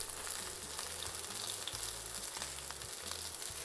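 Two sesame-crusted ahi tuna steaks sear in a hot pan with a constant bright sizzle over a low steady hum, close and uninterrupted, with no one speaking.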